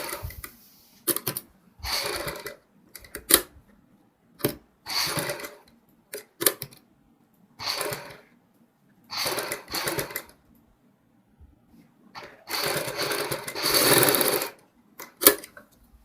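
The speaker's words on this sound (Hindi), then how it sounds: "ध्यान से सिलाई लगानी है क्योंकि यहाँ पे हमें सिलाई नज़र नहीं आती।" Sewing machine stitching a kurti neck strip in many short, stop-start runs, quick bursts separated by silences, with one longer run near the end, close and fairly quiet.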